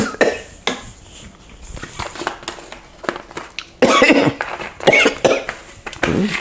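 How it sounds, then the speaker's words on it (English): Several sharp coughs burst out, set off by pepper seasoning, amid clattering kitchen noise while pork chops are cooked, with dishes and utensils clinking close by. "If you start coughing, That's because your seasoning is getting in your nose."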